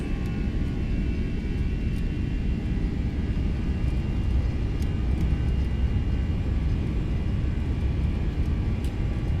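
Simulated Airbus A320 jet engines spooling at takeoff thrust on the runway, a continuous loud, even roar with deep rumble and steady hiss throughout, no voices.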